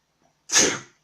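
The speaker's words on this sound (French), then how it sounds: "attention, éternuement" A single sharp sneeze bursts out close by after a brief silence, then fades quickly.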